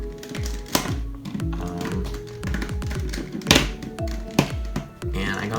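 Rubik's cube turns in a speedsolve done with only four fingers and tape on the hands: rapid, uneven plastic clicks and clacks up close, in bursts with short pauses and a few sharper snaps.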